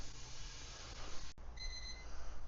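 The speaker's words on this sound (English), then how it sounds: "my timer is going off." Timer alarm going off in a powder-coating workshop: a faint, short electronic beep tone rising out of a low steady hum partway through, with no one talking.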